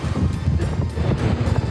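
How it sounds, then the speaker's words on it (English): Strong wind hitting a large tent in Las Vegas, heavy buffeting gusts and low rumbling flaps, loud and close throughout. "this thing's catching so much wind"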